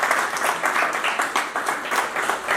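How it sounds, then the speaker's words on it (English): An audience at a banking quiz competition semi-final gives a steady round of applause to welcome the quiz master, a continuous mass of clapping filling the hall. "let's welcome our quiz master with a wide round of applause"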